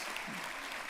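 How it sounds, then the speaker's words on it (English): A commencement audience claps together in a steady, dense wash of applause that holds evenly through the whole second, loud and continuous with no voices over it. "you can clap at that"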